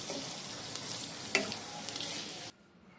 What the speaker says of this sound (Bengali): প্যানের মধ্যে একটু ঘি দিয়ে নিলাম